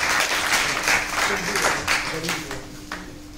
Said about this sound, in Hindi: एक बार प्रयास के नाम पर ताली जरूर होनी चाहिए।